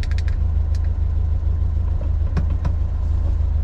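A 1977 Volkswagen Beetle's air-cooled engine idling, a steady low throbbing putter that stays even and close, with a few faint clicks and knocks over it.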